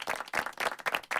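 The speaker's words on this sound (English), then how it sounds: "you got to give him a round of applause" A studio audience claps for a guest on a talk show, a short burst of hand claps in quick uneven pulses, fairly close and moderately loud, with no talking.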